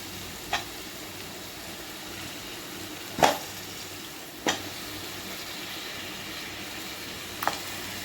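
Chicken frying in a pan with chili powder and ginger-garlic paste, a soft steady sizzle broken by a few sharp clinks and pops spaced several seconds apart.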